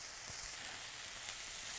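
Bacon sizzles and fries steadily in a hot pan, spread out to caramelise each piece, giving a dense continuous crackling hiss with faint pops and no voices.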